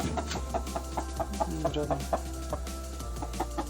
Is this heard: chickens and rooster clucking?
yes